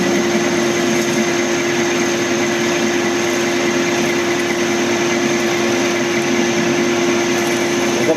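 A lathe parting off a plasma-cut Jeep rotary table center bush under power, giving a loud, steady machine drone with a constant whine, running on without a break and with no talking.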